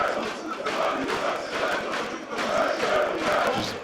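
Esports fans cheer at a League of Legends Ultraliga grand final, a continuous swelling crowd roar that rises and falls in waves throughout.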